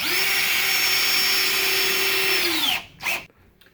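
A power drill driving screws while assembling a beehive body whirs at high speed for nearly three seconds, then winds down, followed by one brief second burst.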